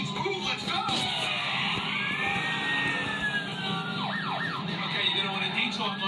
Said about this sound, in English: Siren means move.